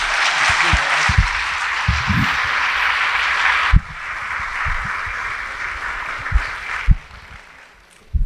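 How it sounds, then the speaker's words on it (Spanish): Welcome applause from a lecture audience for an architect, a broad wash of clapping that drops in level partway, then fades near the end, with a few thumps and knocks underneath. "pido para él un aplauso de bienvenida"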